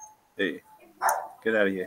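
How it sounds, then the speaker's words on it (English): A dog barks three times in quick succession outdoors, fairly close and loud, with a voice speaking between the barks. "hey, that's a dog, guys."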